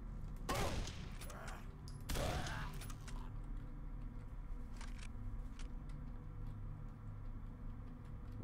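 Two sharp gunshot bursts ring out in the first seconds of Condemned: Criminal Origins gameplay, followed by a low droning game ambience with faint clicks and ticks and no voices.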